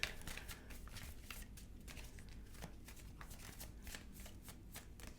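Cards being shuffled in a steady stream of crisp riffling flutters, close and fairly quiet, with no voices over it.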